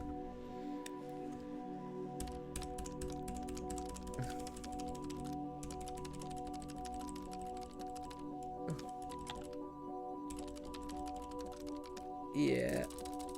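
Bursts of close computer keyboard typing, irregular clatters of keys with gaps, over a constant low hum, with someone talking over parts of it.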